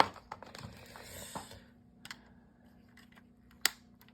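A plastic cover slides off a Vita 3D Master dental shade guide and snaps back on: faint rustling and light taps, then one sharp, close click near the end, with no speech.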